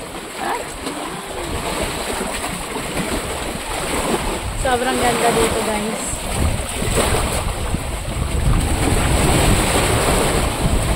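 Loud sea surf washes and crashes close by under overhanging rocks in Oriental Mindoro, Philippines, amid gusty wind buffeting the microphone, while a person talks over the rolling waves.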